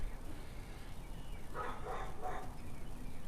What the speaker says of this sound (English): So you got dogs on one side and you got roosters on the other side.